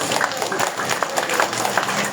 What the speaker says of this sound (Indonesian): Mari Bapak Ibu kita berikan tepuk tangan yang paling tulus.